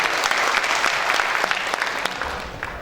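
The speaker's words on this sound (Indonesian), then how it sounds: "Aplaus buat kita semua yang hadir." Audience applause at a forum group discussion: a full room claps steadily and loudly, a dense continuous round that slowly tapers toward the end.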